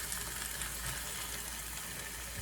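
Kimchi sizzles and fries in a hot stone pot for soft tofu stew, a steady dense crackle held close and loud throughout, no talking.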